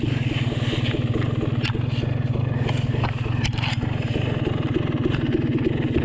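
An enduro dirt bike engine idling while the bike lies on its side during a hard enduro race, a steady close mechanical drone with a few sharp scrapes and clicks over it.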